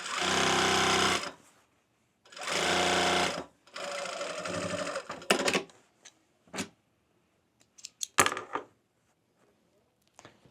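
Sewing machine stitching thick denim linen fabric, running in three loud sustained bursts followed by scattered short clicks and knocks, close up and alone.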